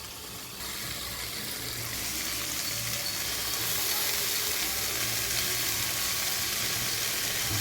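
Chopped cabbage added to a hot pan for a chickpea kurma sizzles and fries steadily, a loud close continuous hiss that builds slightly and never stops.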